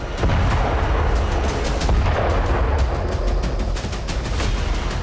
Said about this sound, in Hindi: धमाके में ये सभी तबाह हो गए